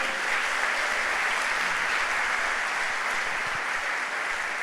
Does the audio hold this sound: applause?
yes